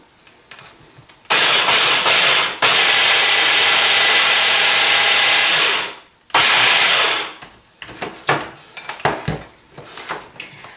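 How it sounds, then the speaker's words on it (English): A food processor chopping vegetables roars loudly for several seconds, pauses briefly, then runs again before stopping, followed by clattering and knocking sounds. "I'm going to put my little veggies in my food processor here"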